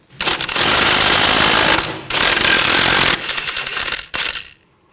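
A power impact wrench buzzes hard in long bursts, loosening a nut on a front strut assembly of a 2000-2006 BMW X5, with brief pauses between the loud rattling runs.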